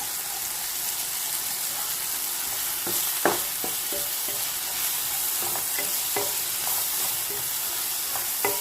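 Chili powder sizzles and fries in a pan while a utensil stirs it, a constant hiss overlaid with scattered scraping and clinking strokes.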